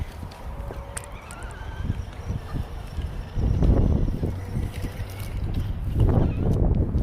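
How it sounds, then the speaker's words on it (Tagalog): Strong wind buffets the microphone in rough, low gusts that grow louder midway and keep rumbling to the end. "Sobrang hangin, sobrang hangin."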